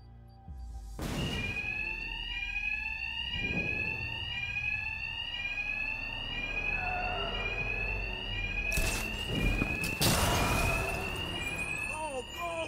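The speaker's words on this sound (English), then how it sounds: "Two-Face's thugs won't hear me over the alarm." A facility alarm in the video game Batman Arkham Knight rings steadily through the whole stretch, with loud bangs and impacts breaking in along the way.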